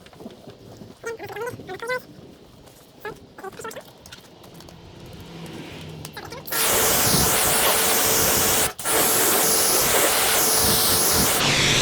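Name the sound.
water spray rinsing product off a car panel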